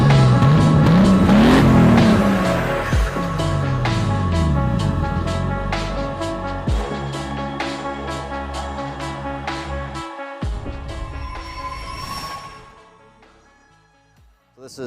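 A turbocharged L28 engine swapped into a 1973 Datsun 240Z revs hard and then settles to a throbbing idle with rising turbo whine, loud and close, before dropping off and shutting down near the end.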